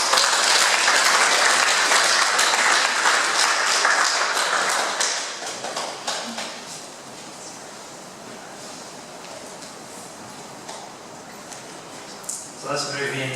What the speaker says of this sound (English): Give them a big clap for sharing.